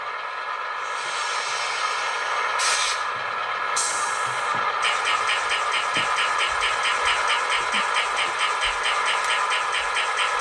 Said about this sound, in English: let's go ahead and move this locomotive here